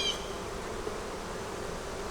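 Honey bees at a hive make a dense, continuous buzzing hum that stays close and steady throughout, with no voices.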